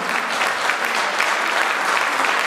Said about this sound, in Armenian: ամենաբարձր ծափերով պետք է ողջունենք ամենաերջանիկ ծնողներին